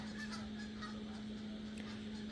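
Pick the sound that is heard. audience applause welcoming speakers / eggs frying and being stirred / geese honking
geese honking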